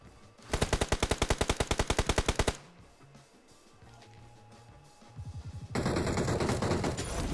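A gun firing in PUBG: a fast burst of about twenty close, loud automatic shots lasting two seconds, then quieter clicking and handling noises, followed by a short rapid burst and harsh continuous noise.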